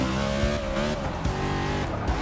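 Race car engine and tires in the Forza Motorsport 6 video game, a loud sustained engine drone with shifting pitch and brief tire scrubbing throughout, no talking.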